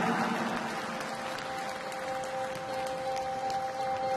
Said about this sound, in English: 让我们共同来用掌声有请所有的表演嘉宾出场